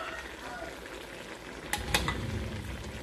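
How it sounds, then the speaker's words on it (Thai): Snails stir-fried in a pan with some liquid in a Thai home kitchen, a soft bubbling sizzle with a couple of sharp utensil clinks against the pan near the end. "ผัดหอยจุกค่ะครึ่งแกงครึ่งผัดนะคะ"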